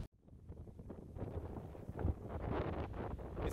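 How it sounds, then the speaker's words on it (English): Wind buffets the microphone in gusty, rumbling bursts that grow stronger toward the end, with faint rustling in the background, on the Camino Francés near Terradillos. "It's windy."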